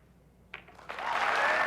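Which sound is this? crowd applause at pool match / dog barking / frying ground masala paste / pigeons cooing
crowd applause at pool match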